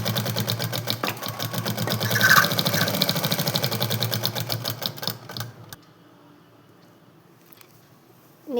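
Domestic sewing machine stitching a plain pant seam, a fast steady mechanical chatter running for about six seconds before stopping, leaving near silence.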